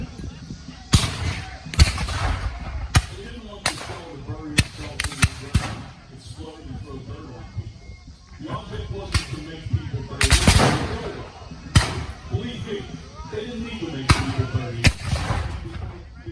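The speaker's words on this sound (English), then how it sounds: "You'll see the stuntmen get thrown into the air with a shell explosion in front of them." Artillery shell blasts and rifle gunfire at a Civil War-style battle reenactment at Galesburg Heritage Days, with sharp, loud reports scattered irregularly throughout, some cracking close and others booming, mixed with outdoor ambience.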